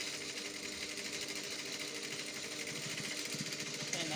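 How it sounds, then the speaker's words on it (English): A sewing machine runs steadily while back stitching a sleeve hem, a fast continuous mechanical whirr at low level, close up and without talk. "When I get to the hem, I back stitch."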